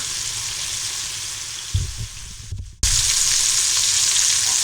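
Clam necks sizzle in a frying pan, a steady close hiss that dips and briefly cuts out before returning loud and even, no speech.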